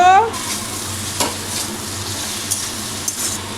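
Potatoes and tomatoes sautéing in a hot pan give a steady sizzle, with a spoon scraping and stirring in a few sharp strokes. No one speaks.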